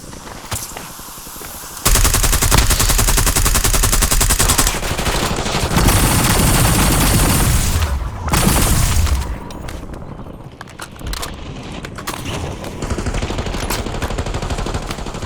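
Automatic gunfire in Warzone on Rebirth Island: long sustained bursts of rapid shots that are loud and close, with heavy booms, then sparser shooting and softer rattling action toward the end.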